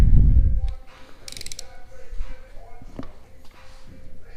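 A ratchet wrench clicks as it loosens a bolt during a Mitsubishi 3000GT VR4 teardown, a short burst of metallic ratcheting after a low thump, with faint garage noise around it.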